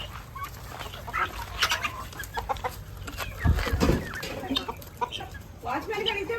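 Chickens on farmland cluck and squawk nearby in short irregular bursts, with a louder flurry midway, while people talk in the background.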